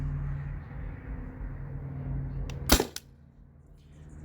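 A modded Byrna TCR launcher running on CO2 fires one sharp, loud crack, followed by a quick secondary snap over faint background hum.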